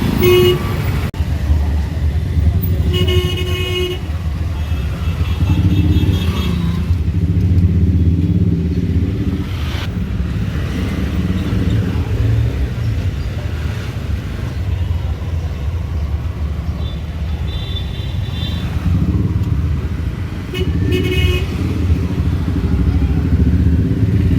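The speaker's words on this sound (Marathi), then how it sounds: "हा लागला तर ट्रॅफिक हा ट्रॅफिक आता संध्याकाळपर्यंत रात्रीपर्यंत हा असाच ट्रॅफिक असतो" Heavy evening road traffic in Ghatkopar in rainy weather: a continuous rumble of cars and motorcycles close by, with several short horn toots.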